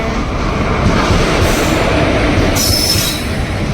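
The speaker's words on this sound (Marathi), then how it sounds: "फायनली ट्रेन आली आहे." A train rolls into Vaibhavwadi railway station loudly nearby, wheels squealing and grinding steadily against the rails, with no voices.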